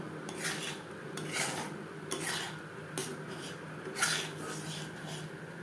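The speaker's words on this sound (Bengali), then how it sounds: "এভাবে অনবরত নাড়াচাড়া করে ঘন করে নিতে হবে।" Homemade chocolate ice cream mixture stirred in a pot, repeated scraping strokes of a spoon against the pan in an uneven rhythm, close and moderately quiet.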